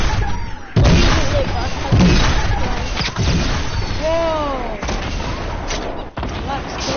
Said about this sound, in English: I'm gonna throw some grenades